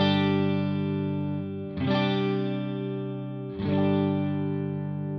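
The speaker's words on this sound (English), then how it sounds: "let's start with the clean tone. This is on the neck pickup, still my Suhr Classic S." A Suhr Classic S electric guitar played on its neck pickup with a clean tone rings out in three strummed, sustained chords that decay slowly, each struck about every two seconds, close and alone.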